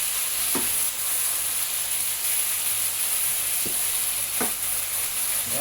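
Chopped tomato and chili pepper sizzle steadily in a frying pan, a constant close hiss with a few brief scraping clicks as the mix is stirred, and no one talking.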